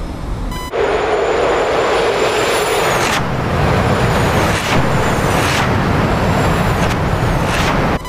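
An F-22 jet engine in a video game roars on afterburner during takeoff, loud, steady and broadband, with a few brief cutoffs and shifts in the noise, and no talking.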